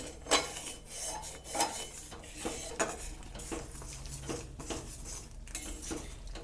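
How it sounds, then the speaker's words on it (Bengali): A spoon stirring in a kadai and scraping its sides while cooking a pea and rice-flour dish: close, repeated metallic scrapes and knocks in an uneven rhythm, with no talk. "নাড়াচাড়া করে কড়াইয়ের গায়ে যেগুলো লেগে আছে এগুলোকে সুন্দর করে পরিষ্কার করে নিয়ে"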